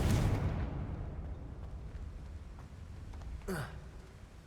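A Confringo fire spell in the video game Hogwarts Legacy lets off a booming burst that fades into a low rumble, followed by a quick whooshing sweep near the end.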